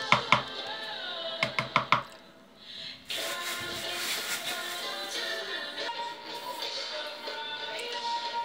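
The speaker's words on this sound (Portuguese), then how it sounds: "Depois de acrescentado, nós vamos bater no liquidificador" A few sharp knocks are followed by a blender whirring loudly and steadily as it mixes pão de queijo cake batter, its motor pitch shifting slightly as it churns.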